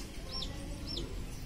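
Two short high chirps from a chick, spaced about half a second apart, over a steady background hum.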